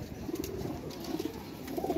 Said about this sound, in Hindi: ये देखें जी दोस्तों, हरी कबूतरी